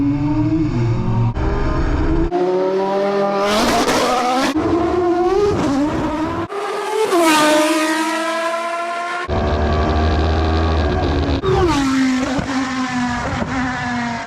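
A Formula 1 car and a McLaren 570GT race a quarter mile from a 40 mph rolling start, engines screaming up through the revs in repeated rising sweeps with sharp gear changes, loud and close throughout.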